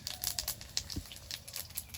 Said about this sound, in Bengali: তেলের মধ্যে দিয়ে দেব সাদা জিরে